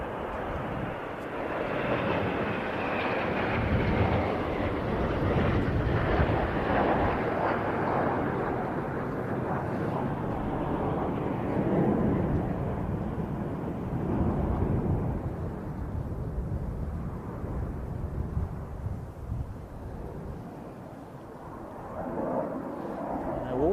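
A French C-135FR military jet arriving at an air show, a long, heavy roaring rumble that swells and lingers, then slowly fades as it passes at a distance.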